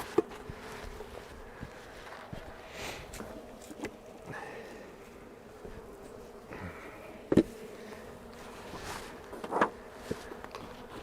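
Honeybees buzz around an open hive during an early-spring brood box rotation: a faint, continuous drone with a few closer fly-bys and light knocks and shuffling nearby, and no voices.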